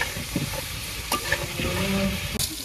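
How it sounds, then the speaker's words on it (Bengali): Cauliflower frying in hot oil with bay leaf, cinnamon and cardamom, a steady close sizzle broken by a few sharp clinks and scrapes of stirring. "এখন ফুলকপি প্রায় ভাজা হয়ে গেছে"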